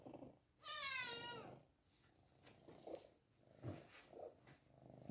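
A pet cat lets out one clear rising meow up close, followed by soft intermittent purring and small rustles.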